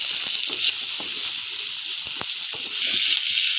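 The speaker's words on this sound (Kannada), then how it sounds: "ಶುಂಠಿ, ಸ್ವಲ್ಪ ಎಣ್ಣೆಯಲ್ಲಿ ರೋಸ್ಟ್ ಮಾಡ್ಕೋಬೇಕು ನೋಡಿ ಈ ಥರ" Ginger and curry leaves roasting in a little hot oil for a potato stir-fry, a bright, steady sizzle with faint crackles and soft clinks throughout.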